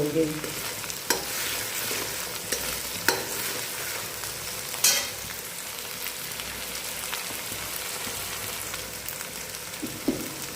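Masala spices roast and sizzle in a pan with a steady crackling hiss, broken by occasional scraping stirs, close up and with no talk.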